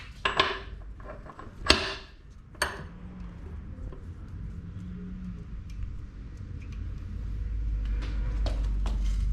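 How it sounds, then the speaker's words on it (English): Metal clanks and sharp ratchety knocks from a breaker bar working loose the axle nut on a 2020 BMW S1000 RR motorcycle, a few loud hits early on, then quieter fiddling with a rising background hum. "let me get my breaker bar out and then we will remove the 34 nut to"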